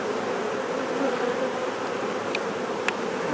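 Honeybees buzzing steadily around a beehive comb bar as it is pulled, a dense continuous insect hum close to the microphone with no talking.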